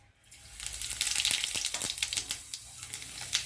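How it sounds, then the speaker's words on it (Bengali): Whole cumin seeds hit hot oil in a wok with a bright crackling sizzle that builds quickly, full of sharp pops and spits, then settles into a busy fizz. "আমার কড়াইতে তেল গরম হয়ে গেছে। এবার আমি মাংসটা বানানোর জন্যে নিয়ে নিচ্ছি গোটা জিরে"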